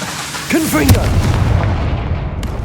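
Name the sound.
Confringo blasting spell explosion, from the video game Hogwarts Legacy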